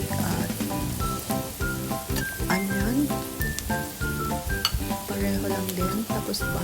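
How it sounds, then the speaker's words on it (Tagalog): Bacon frying in garlic butter in a pan, with a steady loud sizzle and crackle throughout and occasional stirring clinks, while soft music plays underneath. "Para ito iluto na natin ang ating bacon din."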